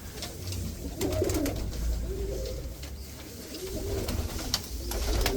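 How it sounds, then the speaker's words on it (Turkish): Pigeons and doves coo repeatedly inside a coop, soft throaty phrases recurring over a low steady background hum, moderately close with no talk. "Hadi girmişken kuşlara da bakalım arkadaşlar"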